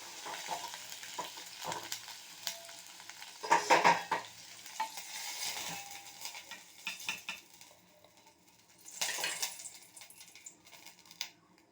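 Paneer frying golden in a little oil in a pan for a paneer gravy, a close sizzle broken by spatula scrapes and metal clinks against the pan, irregular stirring bursts, no talking.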